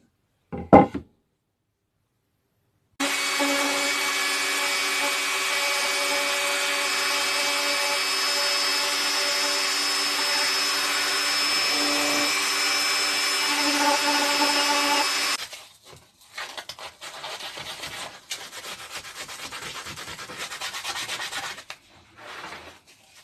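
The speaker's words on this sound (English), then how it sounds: "we'll put the little Dremel bit on now and start tidying these up" A high-pitched Dremel rotary tool whines steadily while sanding a wooden plaque for about twelve seconds, then scraping and rubbing sounds follow as it stops.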